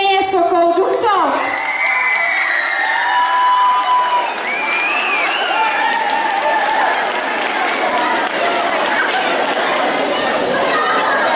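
A crowd at a 2013 award ceremony applauds and chatters for the girls placed third, steady clapping and cheering with children's shouts filling the hall throughout, after a few opening words from an announcer.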